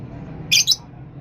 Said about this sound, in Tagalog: Ayan ang African bird natin na alaga.